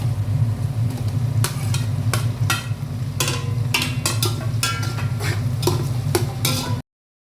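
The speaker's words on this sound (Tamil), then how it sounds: "இதை பொரிஞ்சுக்கிட்டு இருக்கு, நல்லா வதங்கட்டும்." Vegetables sautéing in a pan with a steady sizzle over a low humming background, punctuated by regular loud spatula scrapes and stirs, close up, before cutting off abruptly at the end.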